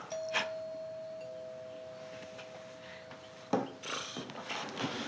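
A doorbell gives a two-tone ding-dong in a house, with the first tone ringing out and sustaining for a few seconds before a thud and rustling movement follow.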